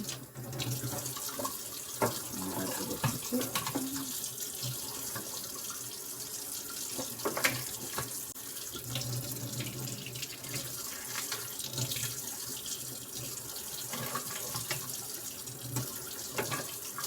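Warm water runs from a kitchen tap into a sink or bowl, a steady, close rushing stream that fills the whole stretch without pause.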